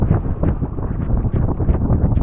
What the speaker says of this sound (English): Now, watch this gust. It'll be a lot more violent.